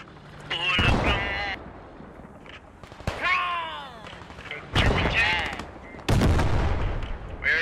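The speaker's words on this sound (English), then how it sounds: "There's also gunfire to our, like 2 o'clock." Sharp bursts of gunfire crack out in several loud clusters in the video game Post Scriptum, mixed with voices talking over the action.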